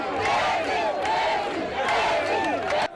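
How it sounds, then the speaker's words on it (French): A dense, loud crowd roars and cheers without pause in an ovation for President Alpha Condé during a campaign tour rally in Pita, Guinea, with voices surging in waves throughout. "Professeur Alpha Condé, sous les ovations de ses concitoyens, a fait le tour d'honneur"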